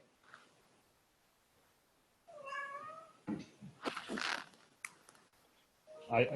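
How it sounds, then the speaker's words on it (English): A cat meows during an online webinar, a couple of drawn-out rising calls followed by rustling, faint scratchy noises and a later short cry, fairly quiet and close to the microphone. "Did the cat just speak for Joanne?"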